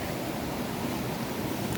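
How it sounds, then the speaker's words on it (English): A Karura Forest waterfall produces a steady, dense rushing roar of falling water that stays constant and fairly loud, with no other sounds standing out. "So now we are here at the waterfall, you can hear."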